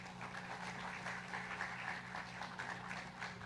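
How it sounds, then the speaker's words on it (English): Crowd applause at a live public event in Cebu, a steady wash of many hands clapping at moderate distance, continuous for a few seconds with a low constant hum underneath. "Can we give ourselves a round of applause?"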